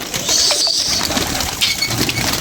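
Pigeons coo softly nearby with a brief flutter of wings, a short burst of low throaty calls over light background noise and no talking.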